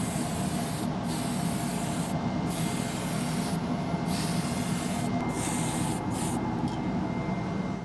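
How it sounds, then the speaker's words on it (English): Primer is sprayed from an aerosol can onto a 3D printed resin dagger, a steady loud hiss that runs continuously with a few brief breaks as the nozzle is released and pressed again. "now we can hit this with some primer."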